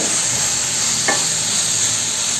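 Carrots, beans and onion stir-fry in a hot pan with a loud, continuous sizzle and a brief scrape of a spoon partway through.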